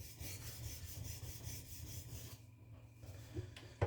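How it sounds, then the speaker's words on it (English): Cheap knife blade ground against a sharpening surface that feels uneven rather than flat, a steady close rasping and rubbing that runs continuously, easing off briefly near the end before a short louder scrape. "this feels weird sharpening. Just feels like I'm grinding on something that isn't flat"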